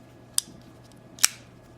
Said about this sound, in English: Flipper type design. They open nice and easy.